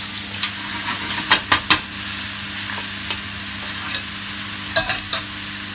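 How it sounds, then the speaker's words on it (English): Lamb browning in a pan for Persian ghormeh sabzi gives a steady low sizzle, with several sharp scraping stirs clustered near the start and again toward the end, close and moderately loud with no talking. "So basically what we're doing is trying to brown a little bit of this meat off."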